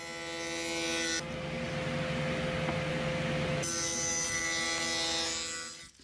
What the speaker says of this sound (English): So the Dado groove is cut around the outside of the side pieces, and then I'll cut the inside grooves to where the shelves will go.